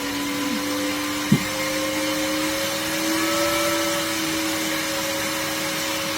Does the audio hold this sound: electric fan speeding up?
yes